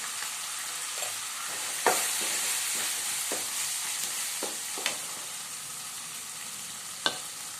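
Onions and tomato paste with turmeric sizzle in oil in a pan under steady stirring, a continuous close frying hiss broken by a few sharp spoon knocks against the pan.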